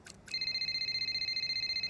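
A phone rings in the racing game F1 Braking Point 3, a bright electronic trill pulsing steadily and close after a couple of short preceding tones, with no talk over it.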